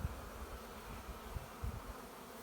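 Honeybees buzz around the entrance of a beehive during a hive inspection, a low, faint, continuous hum with a few slightly louder passes close by.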